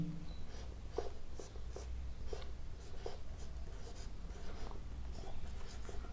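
A teacher writes on a board during a Hindi-language history lesson, making steady scratching and tapping strokes in quick, uneven bursts over a low room hum, with no talking.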